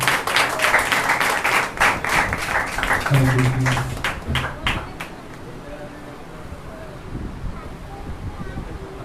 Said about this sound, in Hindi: आइए जोरदार तालियां परमेश्वर दास के लिए।